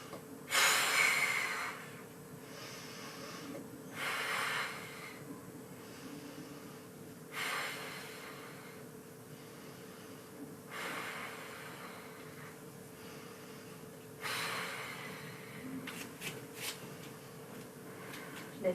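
Rapid, forceful breaths in a fast yoga breathing exercise during an adult vinyasa flow class, heard as several separate bursts of loud nasal snorting exhalations spread through the clip, with quieter room tone in between.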